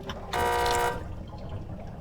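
Air horn item in the video game Dandy's World blasts once, a loud sustained honk lasting about half a second over low background noise.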